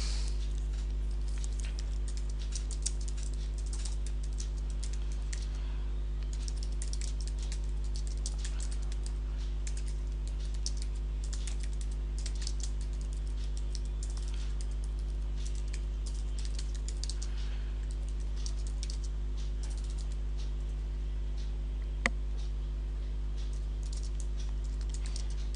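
Dummy text typed on a computer keyboard, a long run of quick, light key taps at an uneven patter, close and clear over a steady low electrical hum.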